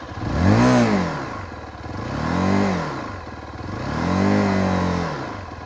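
Three rising-and-falling revs from a Zontes GK350 motorcycle engine, each climbing to around mid-range rpm and dropping back, evenly spaced and loud up close with a clattery mechanical edge.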